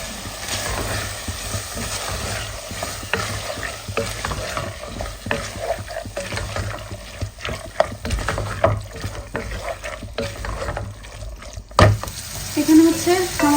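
Onion, ginger-garlic paste, cinnamon and cardamom frying in a pan, a loud, continuous close sizzle broken by stirring scrapes, with a brief burst of talk near the end.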